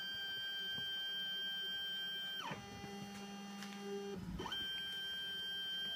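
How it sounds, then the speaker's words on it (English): An X-Carve CNC machine engraves plexiglass, its stepper motors whining in steady tones that slide down and back up as the head changes moves, over a constant electrical hum. "we're doing engraving in the plexiglass."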